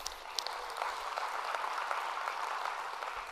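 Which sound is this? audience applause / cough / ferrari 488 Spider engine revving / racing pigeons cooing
audience applause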